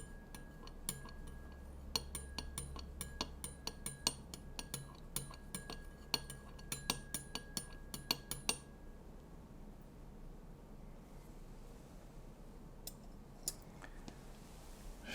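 A spoon stirring clear spirits in a glass, rapid delicate metallic clinks and ticks in a quick run, then a quieter stretch with a few scattered chimes near the end.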